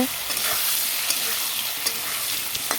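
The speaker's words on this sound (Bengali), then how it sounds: "আলুগুলোকে লাল করে ভেজে নিই" Potato pieces with salt and turmeric fry in a wok, a steady loud sizzle with occasional spatula scrapes and stirring clicks, close and continuous.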